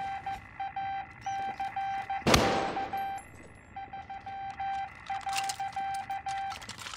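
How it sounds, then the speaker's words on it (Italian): Morse code in the Call of Duty Caldera map sounds as a string of short, evenly pitched electronic beeps in irregular dot-and-dash rhythm, broken by a single loud gunshot partway through. "Questo è il codice morse, bisognerebbe tradurlo."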